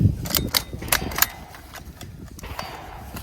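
A CZ 600 centrefire rifle trigger is dry-fired, producing a handful of sharp, close clicks and snaps in quick succession early on, followed by quieter handling noise.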